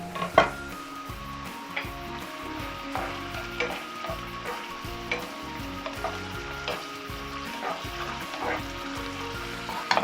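Garlic dropped into a hot frying pan sizzles steadily and close, with rhythmic scraping and stirring knocks against the pan throughout.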